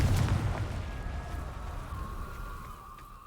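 A Confringo explosion spell cast in a video game: a loud burst with a deep rumbling boom that fades over a few seconds into a thin ringing tone, with no voices.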